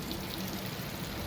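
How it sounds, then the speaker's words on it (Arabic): Rain falls steadily outside, a continuous dense patter and hiss heard up close without pause over a short stretch, no voices. "الحاجه الاولى سمعوا الغيث ما شاء الله، امطار خير باذن الله"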